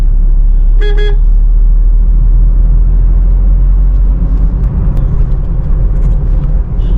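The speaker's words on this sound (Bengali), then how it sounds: "হর্ন দিচ্ছি কারণ একটা মোড় আছে এখানে একটা" A short car horn toot rings out once at a bend on a congested road, over steady engine rumble and road noise in fourth gear, near and clear, with the car continuing to drive afterward.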